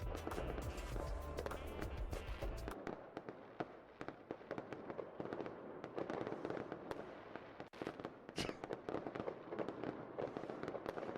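Fireworks going off in a played-back recording, a quick rapid burst of bangs and crackles at first, then a long stretch of scattered pops and crackles at a distance, fairly quiet.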